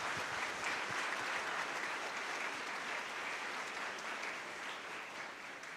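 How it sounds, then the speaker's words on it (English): Steady, dense applause from a full audience at a college orientation ceremony, rolling on for several seconds and easing slightly toward the end. "Let's give all the parents a big round of applause."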